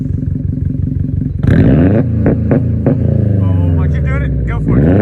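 A car engine with a Cobb Accessport tune revs hard at full throttle, a loud sustained roar that builds and drops, with people talking excitedly over it.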